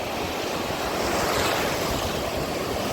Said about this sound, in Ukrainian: Люди кругом пригають на хвилі.